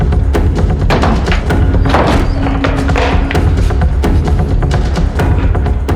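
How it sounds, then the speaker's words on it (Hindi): A locked door is hit again and again with heavy thuds in an irregular rapid series, loud and close, with a few sharper cracking knocks among the blows. "दरवाजा बंद है. तोड़ो से."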